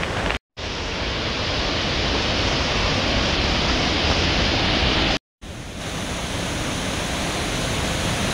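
Broadband roar of Devkund waterfall in Similipal, Odisha, during the monsoon, loud and steady throughout, broken only by two brief dropouts.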